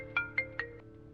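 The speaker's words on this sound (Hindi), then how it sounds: "कविता का फोन है।" Three short electronic phone ringtone beeps repeat at an even pace over a steady background hum in a Hindi TV drama scene, faint and alone without talk.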